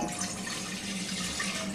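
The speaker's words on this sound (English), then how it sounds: "we're going to take the rest of this and pour it straight into this pot" Liquid poured steadily from a container into a cooking pot while making duck dumplings, a continuous close splashing gush that stays even for the whole moment, with no talking.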